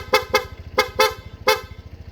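A Honda Giorno scooter horn beeps in quick bursts, five short toots in an uneven rapid pattern over a low idling engine.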